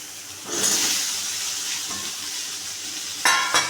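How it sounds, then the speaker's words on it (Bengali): Fried potatoes are stirred into a spice paste frying in a pan, giving a soft steady sizzle with louder bursts of stirring and scraping near the start and again toward the end. "তো আলুতে আর মশলাতে একটু ভালো করে নাড়াচাড়া করে নিই"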